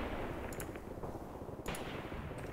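Distant artillery in the Graviteam Tactics war game: a few sharp, crackling reports with muffled booms over a dense rumbling battle backdrop, fairly faint overall.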